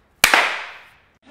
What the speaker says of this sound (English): Gunfire from the shooting at the Walmart near Cielo Vista Mall in El Paso, Texas, as captured on cell phone video.